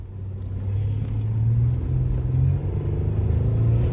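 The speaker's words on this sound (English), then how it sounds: "we're just driving down Big Dune to give her another whirl" A vehicle descending Big Dune in the Big Desert State Forest, with a loud, continuous low engine drone and rumble whose pitch shifts gently, heard up close and alone.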